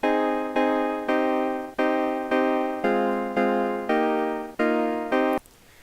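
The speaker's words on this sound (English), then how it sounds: "what the piano notes sound like." Nine evenly spaced synthetic piano-like notes play one after another, each striking bright and fading slightly, in a steady melodic sequence with no voices.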